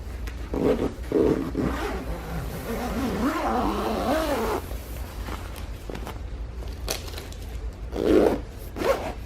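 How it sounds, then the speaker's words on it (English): Extra large heavy duty zipper on the weatherproof PVC outer cover of a Rhino-Rack Batwing roof rack awning, pulled in several rasping runs with a longer, wavering drag in the middle, close up and without speech. "Extra large heavy duty zipper."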